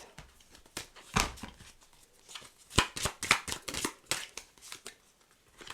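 Tarot cards shuffled and handled close up in a series of sharp riffling and slapping bursts, irregular and fairly quiet, with brief gaps between the flurries and no talk.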